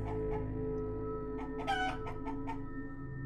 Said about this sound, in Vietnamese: tiếng gà quang quát trước mũi dao số phận